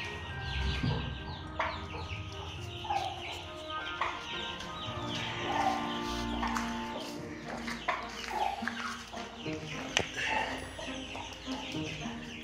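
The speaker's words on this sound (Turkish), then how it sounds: "Tabi bu arada bu bulunduğum ortamda civcivler de var. O yüzden onların sesini de duyuyorsunuz." Chicks peeping in a rabbit-keeping pen, soft repeated chirps scattered over a quiet background with clucking and light shuffling noises.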